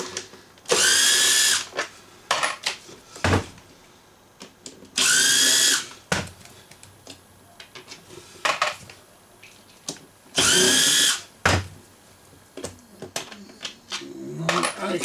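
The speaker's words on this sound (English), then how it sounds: "we'll take these 4 screws out of the front and remove the inverter plate" A power drill whirs in three short bursts as four screws come out of the front of a Honda EX350 generator, separated by clicks, taps and handling noises at close range.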